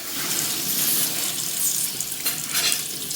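Cold tap water runs steadily and splashes over a metal pressure cooker holding dal, a loud continuous hiss close by with small shifts in the splashing.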